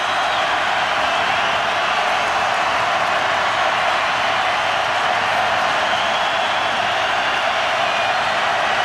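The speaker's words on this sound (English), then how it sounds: "Crowd comes to life." A large football stadium crowd at a Clemson at Miami game roars steadily and continuously, a dense, loud wash of cheering with no break.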